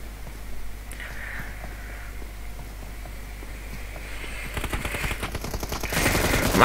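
Sustained automatic fire from an M249 machine gun in PUBG Mobile, a game battle, with bursts building louder and denser toward the end over a steady background hum.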